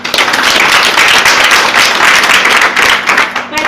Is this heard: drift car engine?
no